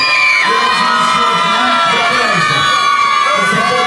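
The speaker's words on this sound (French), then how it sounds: "Ça crie, ça crie, ça crie." Concert fans at an outdoor show shout, cheer and whoop in a loud, continuous crowd roar, with high shrill voices carrying over the din throughout.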